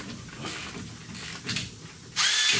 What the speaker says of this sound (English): there you have it. Milwaukee Ratchet, love it.